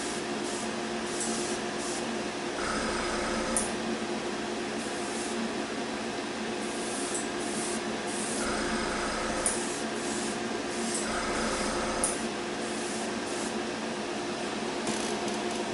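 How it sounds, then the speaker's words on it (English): Aerosol spray paint hissing in steady bursts as railings on a Dora railway gun scale model get coated, the spray broad and continuous with short pauses between passes, close up and without talk. "railings from a different direction so I make sure I get them all covered"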